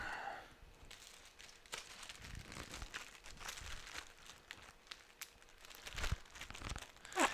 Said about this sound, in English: I'm probably going to put this in a Ziploc bag instead of a regular plastic